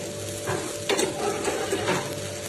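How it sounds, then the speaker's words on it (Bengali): Spice paste for a giant freshwater prawn malai curry sizzles in a pan, a close steady fry broken by a few louder scraping stirs of a spoon. "মশলাটা খুব সুন্দরভাবে কষানো হয়ে গেছে।"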